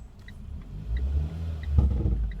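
A car speeds up during a driving lesson, its low engine rumble swelling and revving up close inside the cabin, with no voices.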